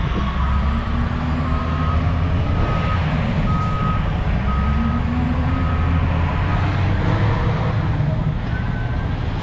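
Rhythmic reversing beeps ring out over a loud, constant diesel rumble as a residential garbage truck waits at a dump site while a tipper lowers nearby, with faint hiss and traffic noise throughout.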